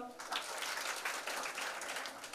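Audience applause from a crowd at a youth spiritual camp session, steady dense clapping at moderate distance throughout.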